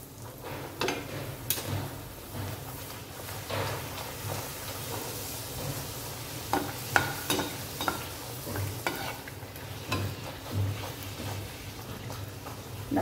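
Masala poori frying in hot oil, with a continuous sizzle broken by irregular scraping and stirring clicks of a utensil in the pan, close and steady, without talk.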